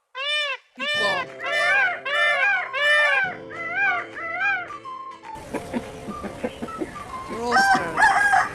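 A rooster crows several times in a row, loud and close, with rising and falling calls. A mix of other farm-animal cries and a voice follows in the second half.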